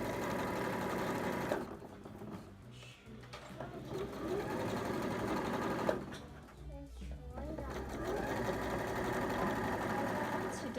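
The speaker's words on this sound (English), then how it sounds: "So you're then going to want to sew your 2 pieces together and do that twice." A sewing machine stitching two fabric pieces of a mermaid tail blanket together, a steady close whirring run that pauses briefly twice and restarts, with a person talking over parts of it.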